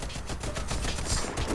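Rapid automatic gunfire from the shooter game Warface, a dense, continuous burst of shots close up and loud with no speech over it.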